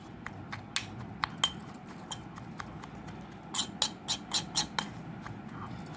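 Egg masala being mixed in a bowl: a run of sharp, irregular clinks and taps of a utensil against the bowl, quickening toward the end, over a low steady background hum.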